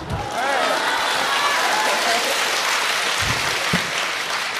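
Clapping from the audience at a live crosstalk performance in Tianjin holds steady for several seconds, broad and continuous, with a few low thumps underneath.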